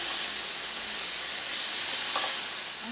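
Steak searing on high heat in a hot skillet, a steady close broadband sizzle and hiss running unbroken throughout with no talk.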